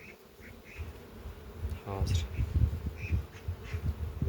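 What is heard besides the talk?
honeybees buzzing around an opened beehive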